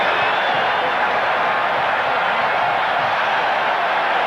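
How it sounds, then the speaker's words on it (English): A loud, sustained crowd roar fills an American football stadium during a 1986 Houston Oilers at Green Bay Packers game, a dense unbroken wall of cheering throughout. "You hear again the roar from the crowd"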